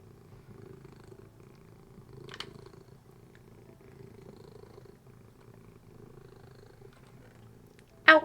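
A cat purring in a Minecraft game, a low steady rumble running throughout at moderate level, broken by a brief sharp burst early on and another at the very end.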